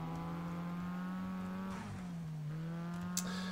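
A Club car driven in the Need for Speed: San Andreas video game gives a steady, close engine drone whose pitch sags slightly midway and then holds, with no talking.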